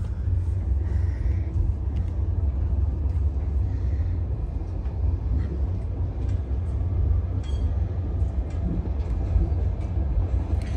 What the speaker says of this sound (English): These trains are rough as hell